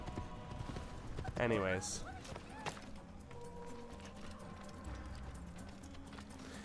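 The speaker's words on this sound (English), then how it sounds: "Is my horse calmed down?" In Assassin's Creed, horse hooves clip-clop steadily and quietly at a walking pace beneath game ambience. A short spoken word cuts in near the start.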